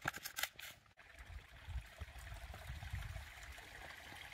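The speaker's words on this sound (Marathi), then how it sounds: "पाणी वाहतंय छान." A mountain stream flows steadily, its faint broadband rush continuing evenly after a brief clatter at the start.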